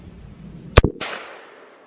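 A single sharp, loud rifle shot from a CMMG Banshee chambered in 7.62x39, fired at a 25-yard target outdoors, with a crisp crack, a quick second report, and a decaying echo trailing off afterward.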